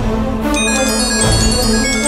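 A phone rings while a call is being placed, sounding a loud, melodic electronic ringtone with sustained tones that shift in pitch over about two seconds, heard on its own without talk.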